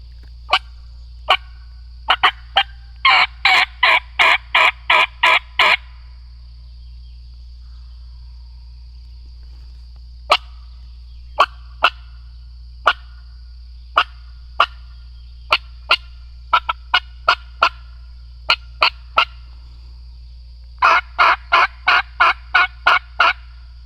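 Sharp, raspy wild turkey gobbles ring out in quick bursts separated by stretches of quiet, loud and close, over a steady low hum, in Mississippi.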